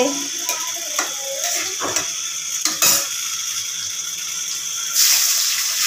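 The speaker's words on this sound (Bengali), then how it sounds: "পেঁয়াজ দিচ্ছে, পেঁয়াজ ভাজছে, পেঁয়াজটা তেলে ডুবছে না।" Onions fry in a small amount of oil in a pan, giving a soft, steady sizzle broken by a few scraping stirs and clinks, with no voices.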